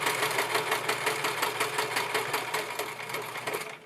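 A sewing machine stitches fabric for a plantation-style dress, a continuous close mechanical whirring with rapid even needle rhythm, running alone for about four seconds.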